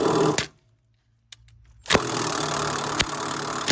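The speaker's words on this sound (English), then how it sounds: "So basically, you get a high torque impact and you try to spin it up." High torque impact wrench spinning a strut nut on a 2006-2010 Dodge Charger front strut, a short burst, a brief silence, then a sustained loud whirring rattle close by with sharp clicks.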